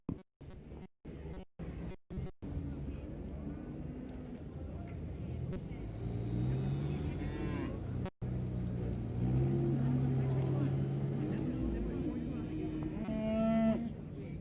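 Cattle low at a 1970s Irish fair day, with several drawn-out moos rising over a busy outdoor background of shuffling and distant engine noise, loudest toward the middle of the stretch.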